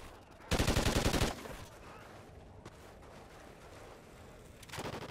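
Gunfire in the video game Call of Duty: Ghosts, with a loud close burst of rapid shots lasting under a second, a quieter stretch after it, then another burst starting at the end.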